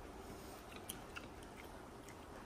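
Quiet, close chewing of tahu sumpel, stuffed tofu, with a few soft crunchy bites standing out over a low background hiss and no talking.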